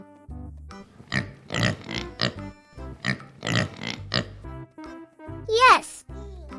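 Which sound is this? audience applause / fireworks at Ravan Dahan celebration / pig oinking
pig oinking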